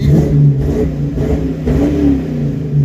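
A 1982 Ford Mustang GT engine revs loudly and close, a steady low rumble that swells and eases over a few seconds with no voices.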